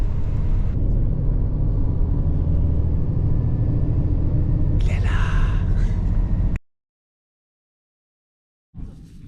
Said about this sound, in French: On prend le bus pour le départ.